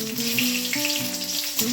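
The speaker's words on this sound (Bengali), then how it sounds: "ফাটিয়ে ফোড়ন দিয়েছি, তাও ফাটছে কাঁচা লঙ্কা" Whole green chilies crackle and sizzle in hot frying oil, a steady close-up hiss with small popping bursts.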